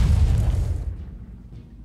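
A single loud shot and explosion in the strategy game Humankind, a heavy booming burst that rumbles and decays over about a second, with no voices.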